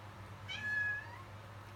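A house cat gives a single drawn-out meow close by, rising and then falling, over a quiet low indoor hum.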